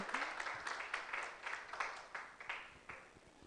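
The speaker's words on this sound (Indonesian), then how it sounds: "Mari kita beri tepuk tangannya dong untuk narasumber kita" An audience at a government outreach ceremony claps for the speakers on stage, a steady wash of applause with uneven bursts that fades slightly toward the end.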